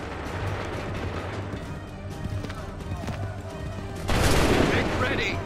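Musket volley gunfire in Assassin's Creed 3 at Lexington and Concord, a sudden loud crackling burst of many shots after a stretch of battle noise with hoofbeats and shouted commands.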